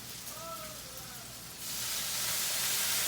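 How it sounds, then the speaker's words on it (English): A steak cooks in a hot pan for a cheese steak sandwich, with a steady close sizzle that swells into a louder, broader hiss halfway through. "So as the steak's cooking, we're going to put a little soy sauce."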